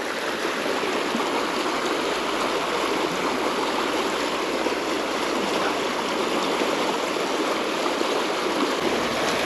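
The fast-flowing Prut river rushes past in a steady, dense roar of turbulent water, heard close and continuous with no talk over it.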